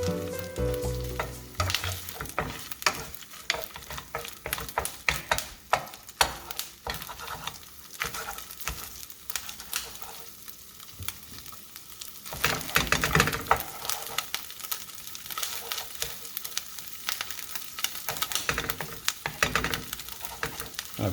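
Shad roe frying in a hot pan gives a loud, steady sizzle with frequent sharp pops and crackles throughout, close up and without talk.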